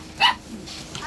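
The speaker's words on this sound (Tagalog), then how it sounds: "malaki ng aso mo na. Nagkahol-kahol na." Large dog giving a single short bark, fairly close, followed by quiet room noise with faint murmurs.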